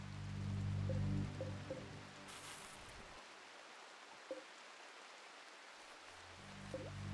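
Steady rain hiss falls in the video game RimWorld, a soft broadband wash that takes over after a few low musical tones fade out, with faint isolated ticks scattered through it.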